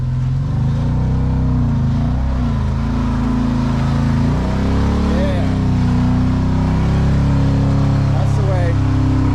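A Polaris RZR Turbo S UTV engine drones steadily on a rocky trail at Sand Hollow, Utah, its low rumble swelling in a few throttle surges, close and loud under a man's brief speech.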